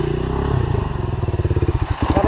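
A motorcycle engine revs close up as the throttle grip is twisted, giving a loud, rough, pulsing drone that climbs and chops rhythmically through a couple of seconds.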